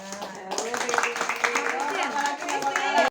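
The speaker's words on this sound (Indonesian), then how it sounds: "Tepuk tangan." A church congregation claps after a personal testimony, bright hand claps mixed with voices and tonal sound running underneath until an abrupt cut.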